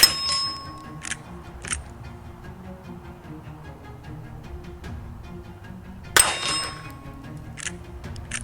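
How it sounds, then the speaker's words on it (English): Bullets from a Winchester 1890 rifle ring off a steel target outdoors, giving a few sharp metallic clangs spaced seconds apart. Each clang is bright and decays quickly, with a louder strike near the end. "let's shoot some steel."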